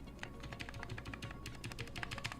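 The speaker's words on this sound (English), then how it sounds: "this is a keyboard that looks better than it sounds" Rapid keystrokes clatter on a custom keyboard, a quick irregular run of close, crisp clicks and taps.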